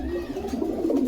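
Pigeons coo in a low, steady murmur at a Bogura pigeon dealer's loft, close and continuous with no talking over them.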